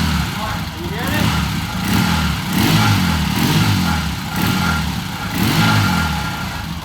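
A 1978 Triumph motorcycle engine runs in a shop, a rough mid-pitched idle that swells in repeated revs with a mechanical rattle, loud and close, while people talk nearby.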